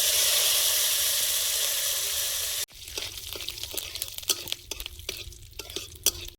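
Hot oil tempering with dried chilli, black cumin and neem leaves: first a loud, steady hiss of frying, then after a sudden cut, softer sizzling with clicks and stirring taps close by.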